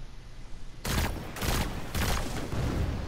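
Rapid gunfire in Destiny 2 during a solo legendary Lost Sector, several loud bursts of shots in quick succession after a brief quiet start.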